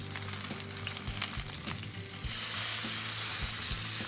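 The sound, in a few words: salmon fillet sizzling in pan after flipping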